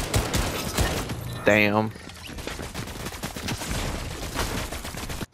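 Rapid gunfire in the Fortnite video game, dense crackling bursts running nearly throughout with a tonal game effect sweeping briefly, while a player talks over it.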